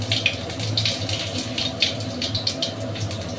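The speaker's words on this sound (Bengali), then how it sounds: "তো জিরেটা আমি ফোড়নে দিয়ে দিলাম।" Cumin seeds sizzle in hot white oil in a wok, giving a steady, close hiss with faint crackles throughout.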